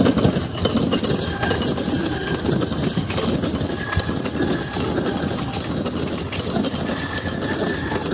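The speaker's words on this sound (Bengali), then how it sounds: "ট্রেন দেখুন কতটা এগিয়ে এসছে।" A train rumbles steadily past a railway crossing, a loud continuous roar of wheels and carriages close by with faint clacking throughout.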